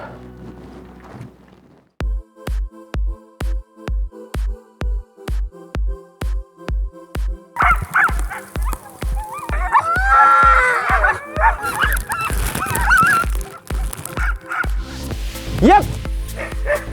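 Sled dogs at a snowy polar park bark in a steady, rhythmic run of loud, evenly spaced yaps, then break into excited overlapping yips and whines as the pack grows noisier.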